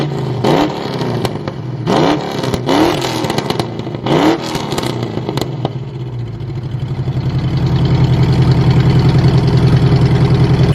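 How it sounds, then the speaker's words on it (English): A 1968 Ford Mustang Fastback with Violator exhaust revs hard in several sharp throttle blips, then settles into a loud, rumbling, lopey idle that grows heavier and steadier toward the end. "I'm gonna go ahead and do some revs, some full throttle pulls, and show you guys exactly how this exhaust sounds like"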